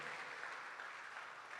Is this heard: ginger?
no